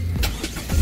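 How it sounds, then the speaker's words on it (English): A 2019 Mazda MX-5 hard-top starts up, with brief close bursts of cranking and engine catch in less than a second, loud and alone without talk. "This is a Mazda MX-5, the new version. And I'm going to start the car right now."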